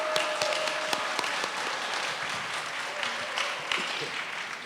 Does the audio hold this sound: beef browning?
no